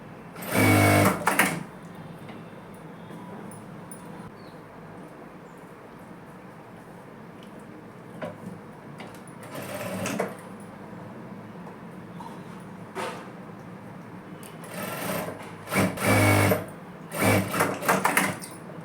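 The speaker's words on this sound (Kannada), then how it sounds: "ಎರಡು ಸೀರೆ ಬಂದಿತ್ತು ಹಂಗಾಗಿ ಫಾಲ್ ಹಾಕ್ತಾ ಇದ್ದೀನಿ" An electric sewing machine stitches a fall onto a saree in loud, steady bursts separated by quieter pauses, running close by with no talking.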